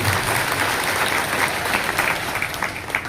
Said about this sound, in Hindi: आप एक बार ताली बजा दूंगा जोरदार से।